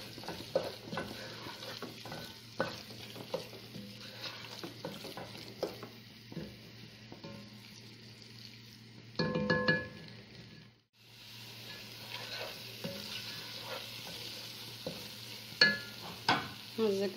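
Berbere spice paste being stirred as it fries in a pot for Ethiopian chicken stew (doro wat), with steady close scraping strokes and a continuous sizzle throughout, briefly louder near the middle before a short lull.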